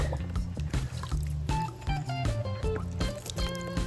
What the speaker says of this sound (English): I'm gonna rinse it, shake it around a bit.